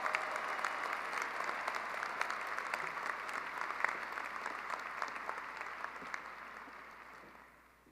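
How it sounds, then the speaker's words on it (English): Sustained applause from a crowd at a fall 2022 university commencement, a dense steady clapping at a moderate distance that holds for several seconds before slowly tapering off. "Let's give the class of 2022 a well-deserved round of applause."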